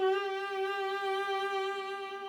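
Bowed viola holding a steady, sustained tone in a vibrato exercise while sliding up the fingerboard, rich in overtones, fairly quiet and alone with no talking.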